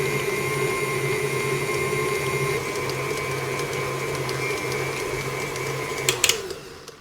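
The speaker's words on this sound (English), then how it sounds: "we're going to spend about 3 to 5 minutes here mixing this through until it's completely dissolved" An electric mixer creams butter and sugar for vanilla cupcake batter, giving a steady, continuous whirring hum at close range that holds evenly for several seconds before a few clatters and a slight drop at the end.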